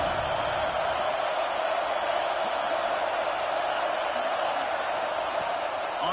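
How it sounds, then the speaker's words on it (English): A home crowd roars steadily at a football game, a dense, continuous wash of cheering and noise from a packed stadium that holds at one loud level throughout, with no distinct individual voices standing out. "Man, this crowd really affecting the football game."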